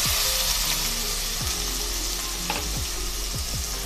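Chopped onion frying in hot oil with whole spices in a kadai for a Maharashtrian mutton curry, a steady close sizzle broken by a few scraping stirs of the spoon.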